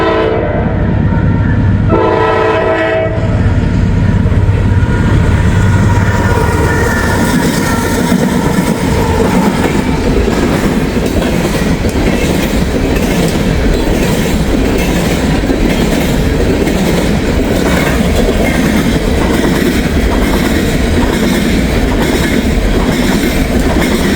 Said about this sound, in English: We got an empty coal train here.